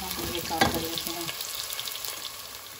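Onions fry in a pan for an aloo keema, a close sizzle and crackle with scraping stirs and a brief clatter early on, the sizzle continuing steadily afterward.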